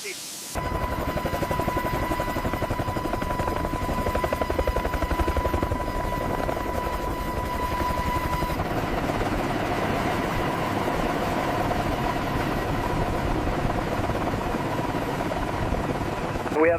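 A heavy-lift helicopter hovers while carrying a slung load, its rotor and engine making a loud, steady, continuous roar that barely changes throughout.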